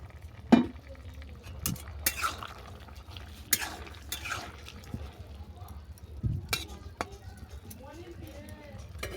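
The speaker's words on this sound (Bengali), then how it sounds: "আবার আমি নেড়ে চেড়ে একটা ডিশ ঢেকে দিলাম 3 মিনিটের জন্য" Vegetables with broccoli stirred in a pan, with scattered scraping and clinking of a spoon on metal, then a dish set over the top as a lid. Handling sounds come in short, close bursts.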